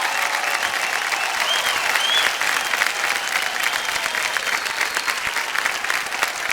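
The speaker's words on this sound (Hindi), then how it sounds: "मैं बहुत जोर से तालियां बज जाए इनके लिए।" Studio audience on a television quiz show breaks into loud, sustained applause for a contestant, dense rhythmic clapping holding steady from start to finish, with a faint tone and voices in the background.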